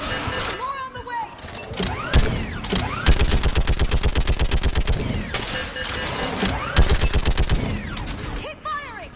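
Rapid gunfire in the video game Mass Effect Legendary, loud sustained automatic bursts with metallic ringing and energy effects, broken by brief pauses, while voices shout over the action.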